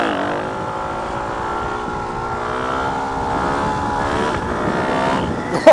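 Motorcycle engine, a sports bike, supermotard or dirt bike, held at steady high revs for a clutch-up wheelie, a continuous buzzing drone with layered harmonics that swells slightly near the end, no voices.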